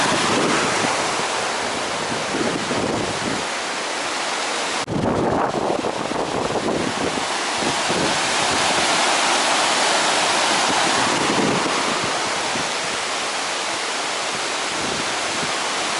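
A steady, loud rush of the Afon Artro flowing, broad and roaring like a fast river, with gusts of wind buffeting the microphone throughout.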